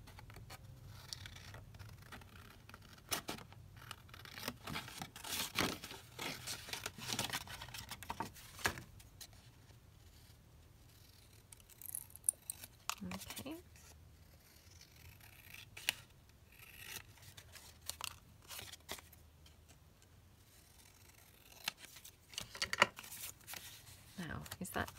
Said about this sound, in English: So I'm just going to cut one of these out.